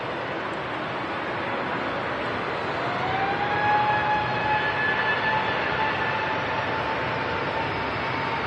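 An Icelandair Boeing 757 airliner in Hekla Aurora Borealis livery passes at Manchester Airport, a steady broadband jet roar with a rising whine that swells slightly midway and holds, heard from a distance without talk.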